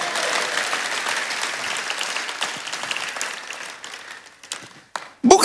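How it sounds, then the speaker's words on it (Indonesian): A church congregation claps together in steady, fairly loud applause that gradually thins out, with a few scattered louder claps and a sharp sound at the very end. "Berikan tepuk tangan ya,"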